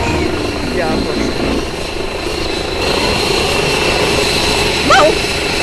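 A helicopter flies in the VRChat video game, its steady loud rotor and engine drone filling the whole stretch while people talk over it.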